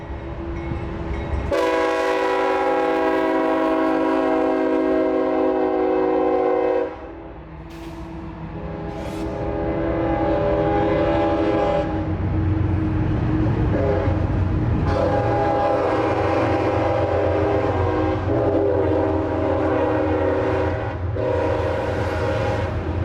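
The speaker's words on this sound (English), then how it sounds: "the 441 would be going through town at about 10 miles an hour" A freight train, number 441, rolls slowly through Folkston, Georgia, at about ten miles an hour under a slow order, sounding a loud, sustained multi-tone horn in several long blasts over rumbling wheels and engine drone.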